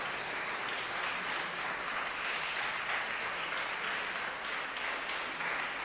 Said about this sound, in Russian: я прошу продолжить свои аплодисменты